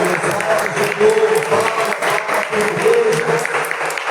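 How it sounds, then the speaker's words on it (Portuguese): A church congregation at a Portuguese-language service gives a sustained round of clapping, dense and continuous, while a voice carries on over it. "Você pode saudar essa palavra com a salva de palmas?"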